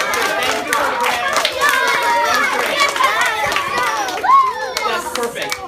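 A classroom of third graders claps in a steady flurry of applause, with excited children's chatter and voices mixed throughout.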